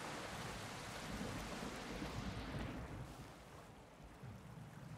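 Heavy storm on an open shore with steady loud rain and deep rumbling thunder throughout, a moored boat nearby, easing slightly toward the end.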